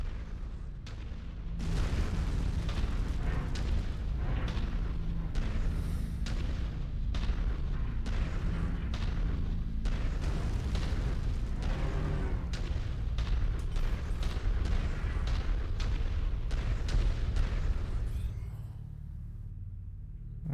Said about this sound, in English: Enemy artillery is active